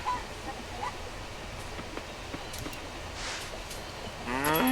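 A cow moos in the farming video game Coral Island, one drawn-out low call rising near the end over steady ambient game sounds, with footsteps scattered throughout.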